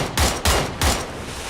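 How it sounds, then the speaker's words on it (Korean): AK rifle fire in the video game PUBG: three short, punchy bursts of automatic shots in quick succession, loud and close, with brief gaps between them. "집 쪽에서 AK 사운드 나가고"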